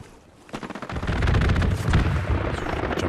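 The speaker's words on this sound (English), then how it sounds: "Jumps out of the way of the strafing run." An aircraft strafing run in a console war game tears across the ground as a sustained, loud barrage of rapid cannon fire and impacts, building up after a quiet start and rumbling throughout.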